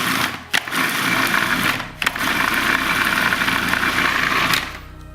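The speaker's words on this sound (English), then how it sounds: "I've broken it up a little bit before putting it in so that it blends well" Blender whirring steadily as it purees kale for a gluten-free vegan pistachio kale pesto, a loud continuous motor drone with two brief dips where it pauses before cutting off near the end.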